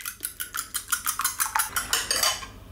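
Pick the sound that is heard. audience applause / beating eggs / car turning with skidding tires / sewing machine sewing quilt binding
beating eggs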